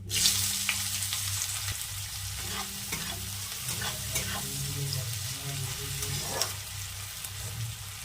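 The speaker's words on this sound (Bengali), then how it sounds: "এবার আমি পেঁয়াজ কুচিগুলো দিয়ে দেবো।" Chopped onions hit hot oil tempered with a dried red chilli and two bay leaves, cooking for dum aloo; a steady, close sizzle and crackle runs throughout, broken by repeated scraping stirs of a spoon.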